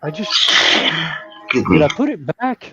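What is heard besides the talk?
sneeze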